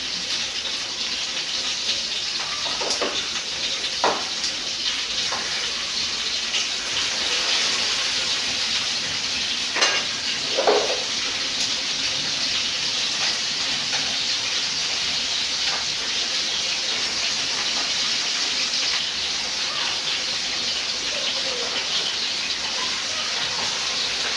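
Sausages and potatoes frying in a pan, a steady loud hiss and sizzle running throughout with a few soft clinks and pops, no voices.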